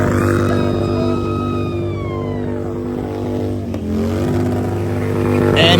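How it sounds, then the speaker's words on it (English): Cars in steady traffic at a motorcycle event drive past, a continuous loud engine drone with a rising and falling pass-by sweep, plus a brief dip before another vehicle approaches. "All this car traffic is coming through"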